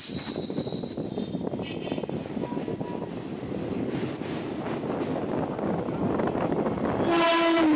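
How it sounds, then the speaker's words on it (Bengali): A Sealdah–Kalyani Simanta suburban local train rolls loudly and close past a station in West Bengal, a steady rumble of wheels and carriages that ends with a sharp, piercing horn blast. "ট্রেনটি শিয়ালদহ কল্যাণী সীমান্ত লোকাল।"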